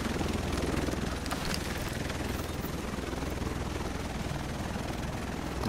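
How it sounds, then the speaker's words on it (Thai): A steady video game helicopter drone with rotor thumping runs throughout, dense and continuous, with no voices. "ตามเสียงเฮลิคอปเตอร์ไป"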